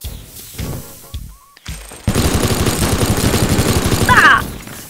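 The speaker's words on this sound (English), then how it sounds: "the minigun. It is very, very destructive." A minigun in the destruction game Teardown fires a dense, rapid-fire roar of continuous shots for several seconds. Scattered clatter and a brief quiet come first, and the burst grows louder toward the end.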